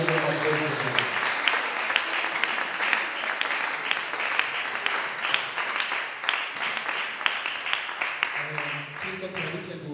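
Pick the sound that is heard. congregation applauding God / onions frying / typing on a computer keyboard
congregation applauding God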